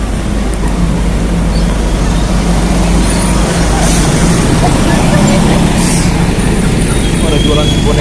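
City bus passing a bus stop at Kali Besar Barat in Kota Tua, Jakarta: a loud, close, continuous low engine rumble with street traffic noise and a brief hiss, under someone talking.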